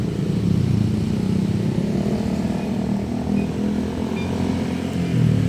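A motorbike engine drones steadily and close by while riding through traffic in Taytay, Rizal, Philippines, a continuous low rumble with slight swells in revs and no voices.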